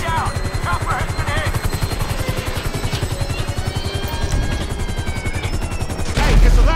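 Helicopter rotor thumping steadily in the GTA 5 video game, its chop mixed with gunfire bursts and shouting voices throughout, a loud rumble swelling near the end.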